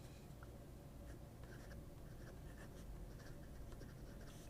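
A Majohn P140 fountain pen scratches softly across paper in reverse-writing strokes, producing a faint, continuous, close scratching with slight rhythmic pulses.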